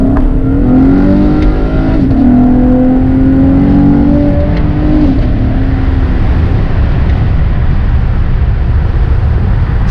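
A 6th-generation Chevrolet Camaro's engine revs hard under acceleration, heard from inside the car. The note is loud and steady, with a rising engine tone over a constant road roar that lasts the whole stretch.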